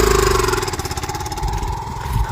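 Motorcycle engine running close by on a farm, a steady rumbling drone throughout with a pulsing low throb and slight rise near the end.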